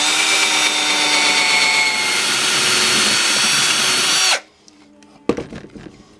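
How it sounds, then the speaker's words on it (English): A Forstner bit drills through a short piece of wood for a cigar box guitar neck template, a loud steady whine lasting about four seconds before stopping abruptly, followed by quieter clatter and a few knocks. "I'm going to drill all the way through this."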